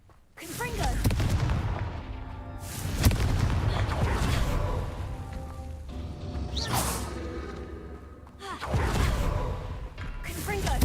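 Repeated Confringo fire spell blasts in Hogwarts Legacy, three or four loud booming explosions with whooshing bursts spaced a few seconds apart over a continuous rumbling game background, close and heavy.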